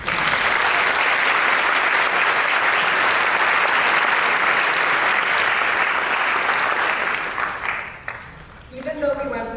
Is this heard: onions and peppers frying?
no